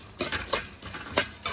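Sesame seeds and roasted gram dry-roasting in a pan, heard as several short scraping, rattling bursts from a stirring spoon against the metal, with soft crackle in between.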